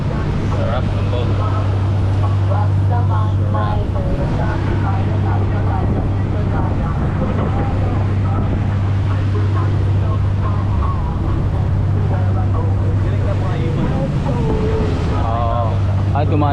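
A tour boat's engine drones loud and steady while it runs over the water on a dolphin-watching trip. Wind buffets the microphone and voices talk over the hum.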